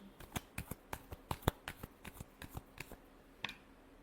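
Tarot cards being shuffled by hand: a quick run of about fifteen crisp, papery riffling snaps in an uneven rhythm, close and fairly quiet, with no talking over them.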